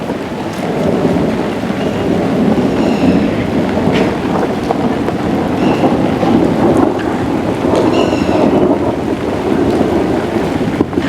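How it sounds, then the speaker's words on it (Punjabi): Rain pours steadily outdoors with low thunder rumbling throughout and some wind buffeting the microphone, a dense, loud, continuous wash of sound. "ਮੀਂਹ ਆਉਣ ਲੱਗ ਗਿਆ"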